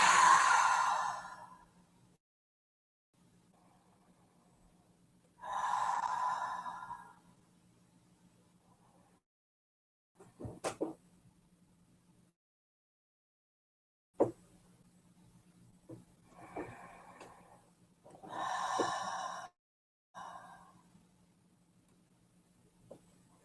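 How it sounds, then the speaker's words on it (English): Slow, deep breaths drawn into the belly during a guided new moon breathing exercise, each long airy inhale and exhale rising and fading with quiet pauses between, close and soft with no talk. "Take 3 deep breaths into your belly."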